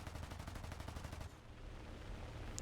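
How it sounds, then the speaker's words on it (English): Rapid machine gun bursts from a B-25J-20 Mitchell bomber in a flight combat video game, a dense stuttering volley for over a second, then a rumbling engine drone with a faint blip near the end. "I start firing at him here"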